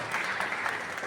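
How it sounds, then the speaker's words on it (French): An audience at an international conference in Paris gives a brief burst of steady clapping, many hands together at an even level for about a second. "On peut l'applaudir également."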